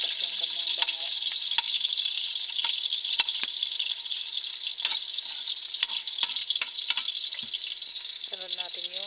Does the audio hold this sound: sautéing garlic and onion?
yes